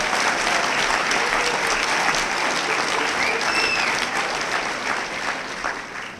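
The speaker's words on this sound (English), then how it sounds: "how about a round of applause for all our educators, past and present." Audience applause at a college alumni awards ceremony honoring educators; sustained, dense clapping from a large crowd filling the room, steady and loud with brief faint whistles, tapering slightly at the end.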